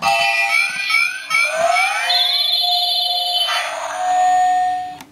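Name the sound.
toy transformation belt sound effect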